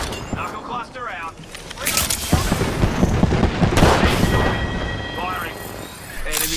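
Gunfire in the Apex Legends video game, dense bursts of shots and booms over several seconds, mixed with in-game character voice callouts.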